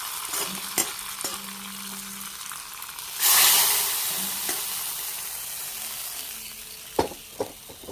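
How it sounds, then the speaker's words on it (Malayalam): Hot tempering is poured into a raw plantain and lentil curry made without ground coconut, setting off a sudden loud hissing sizzle that fades over a few seconds, framed by nearby clinks and stirring taps of utensils. "നമുക്കിത് കറിയിലിട്ട് ഒഴിച്ചു"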